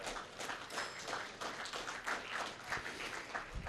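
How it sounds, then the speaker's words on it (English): An audience at a junior football awards night applauds the announcers, a steady, fairly soft ripple of many hands clapping across the room with no break. "A big round of applause for our announcers."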